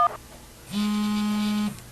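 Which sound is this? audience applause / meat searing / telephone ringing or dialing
telephone ringing or dialing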